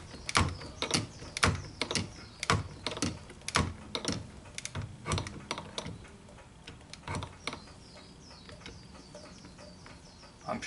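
A shop-built hand shaper cuts a star wheel part in a workshop, with a series of sharp, close ticking and scraping clicks in an uneven rhythm that thin out and grow fainter toward the end.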